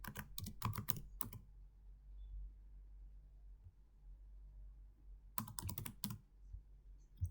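An email is typed on a computer keyboard in two quick bursts of close, crisp keystrokes separated by a few seconds of near silence.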